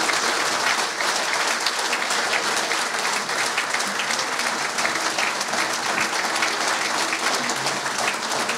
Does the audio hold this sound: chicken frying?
no